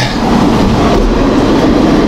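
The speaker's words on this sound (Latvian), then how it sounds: "un vilciens brauc vēl." A train rolls past close by, a loud, steady rumbling roar of wheels on rails with a faint rhythmic clatter, continuous throughout.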